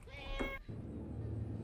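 A cat meows in the FNAF: Into the Pit video game, one short, slightly harmonic cry near the start before a low background hum carries on alone.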